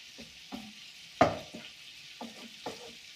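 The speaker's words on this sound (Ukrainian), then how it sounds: "Рибка підсмажується." Fish frying in a home pan, a quiet sizzle broken by several soft scraping and clinking sounds, heard close with no talking.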